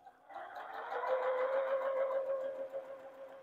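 Sewing machine stitching quilt pieces together, a steady whirring hum with a high motor tone that runs continuously for about three seconds at close range, with no talking.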